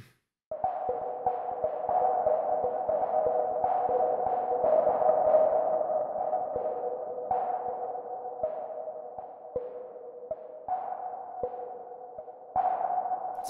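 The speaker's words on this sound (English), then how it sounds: "this type of sound with the filter noise pinging kind of thing" A synth preset in UVI Falcon with resonant filtered noise that pings in repeated steady pulses, each ping ringing out like sonar, sustained and fairly loud throughout.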